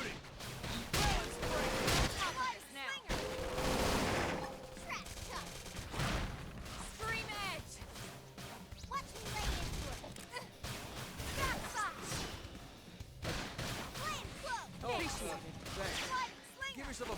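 Ongoing combat gunfire in the open-world sci-fi game Xenoblade Chronicles X, a steady spatter of shots and impacts running under frequent character voices and battle callouts.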